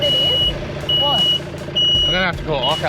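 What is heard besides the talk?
vehicle warning alarm beeping that signals a breakdown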